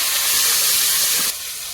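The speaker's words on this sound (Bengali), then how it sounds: "মাছ তুলে নিয়েছি ওই তেলের মধ্যে আলুটা দিয়ে ভেজে নেবে" Potato pieces go into hot oil left over from frying fish and fry with a loud, close, hissing sizzle that drops sharply in intensity just before the end.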